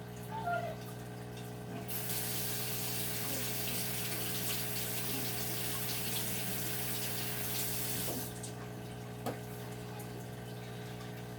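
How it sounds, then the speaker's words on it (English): Tap water gushes steadily into a sink for several seconds while paint brushes are rinsed, switching on abruptly and cutting off near the end over a low background hum. "So let me go rinse off my brushes"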